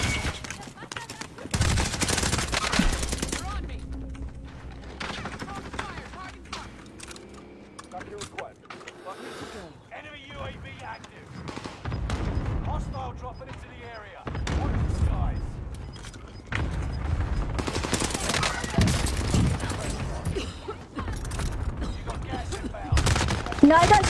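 Video game gunfire in bursts and single shots through much of the stretch, loudest near the start and toward the end, mixed with game effects while players talk over it.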